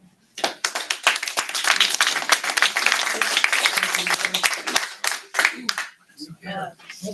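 An audience at a St. Helens budget committee meeting breaks into applause after a public comment, dense, uneven clapping of many hands with a few louder individual claps near the end, voices faintly mixed in.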